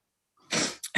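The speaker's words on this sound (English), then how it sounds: "sorry, I'm going to sneeze." A person at a council committee meeting lets out a single sharp sneeze, a sudden breathy burst followed by two short gasping aftersounds, close to the microphone after a moment of silence.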